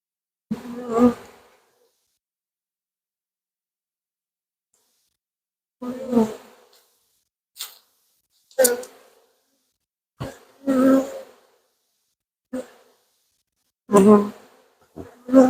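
Honeybees from a swarm just moved into a hive buzz in short, separate bursts close by, with long quiet gaps between passes and no talking.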